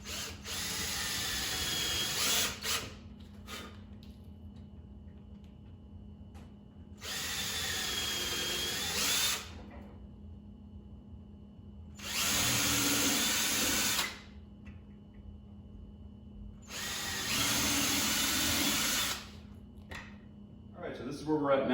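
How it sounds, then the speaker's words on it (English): A power drill drives screws into a birch plywood plyometric box in four separate bursts of a few seconds each, with quiet pauses between them, close and fairly loud. "be sure to pilot hole where you're gonna put the screws at, because this is birch and it's gonna split."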